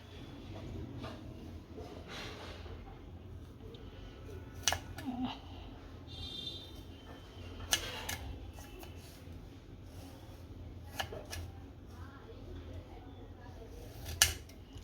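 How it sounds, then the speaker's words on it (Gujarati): Peeled potatoes sliced into thin chips with a knife, faint repeated crisp ticks and taps against a board or utensil at irregular intervals over low room noise, with soft speech in the background. "હવે આની ઝીણી ઝીણી પતરી પાડી નાખશું।"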